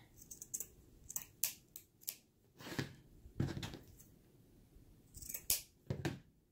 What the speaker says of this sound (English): let me cut it smaller